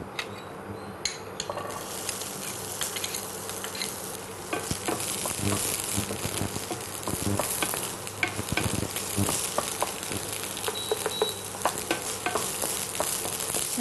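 Onions sizzle and crackle in hot oil in a pan with occasional stirring scrapes, a steady close frying hiss throughout and no voices.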